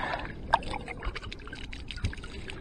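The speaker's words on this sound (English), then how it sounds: "Give it a rinse." An old muddy object found on an estuary shore being rinsed in water, brief splashing and trickling sloshes with a sharper splash near the start, close and fairly quiet, no talk.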